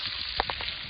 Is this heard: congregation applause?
no